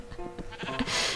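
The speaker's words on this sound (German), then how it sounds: "Die Schafe ziehen mein Schaf mit." Sheep in the video game Minecraft bleat in a short wavering call, close and fairly loud, ending in a burst of bright noise.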